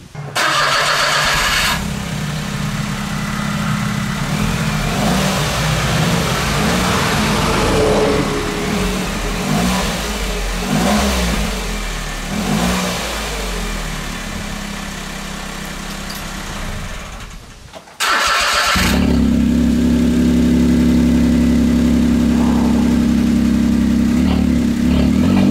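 A Smart car with its body shell removed starts up and revs, a loud close engine roar rising and falling, cutting out briefly, then restarting into a steady raspy idle.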